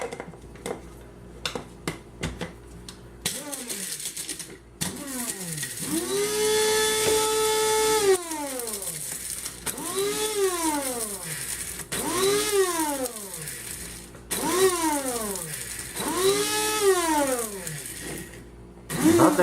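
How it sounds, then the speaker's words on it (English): A standard electric coffee grinder grinds dehydrated food in several short pulses. Each burst whines up to speed and winds down again, close and fairly loud, with no talking. "And just a standard coffee grinder."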